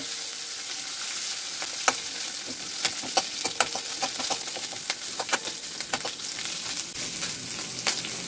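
Chopped green chilies sauté in a pan for a tamarind chutney, giving a continuous loud frying sizzle broken by frequent crisp crackles and spoon scrapes as they are stirred, with no talk.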